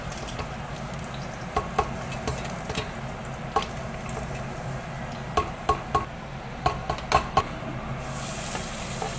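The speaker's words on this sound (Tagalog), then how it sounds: "Hindi na ako maglalagay ng oil, kaya na natin siyang ma-render sa sarili niyang taba" Pork pieces sizzling in their own rendered fat in a pan, with a steady low frying hiss and scattered sharp clicks and taps of stirring, close and without talk.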